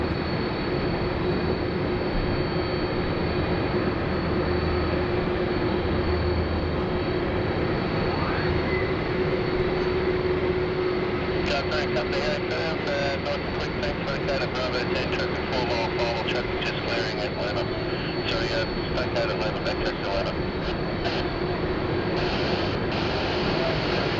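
An airliner at Sydney Airport sits preparing to taxi, its flaps coming down during surface checks. A steady engine drone with a held tone runs throughout, and a fluttering whine joins partway through.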